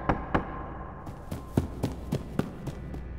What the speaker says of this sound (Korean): 누군가 그의 집 문을 두드렸다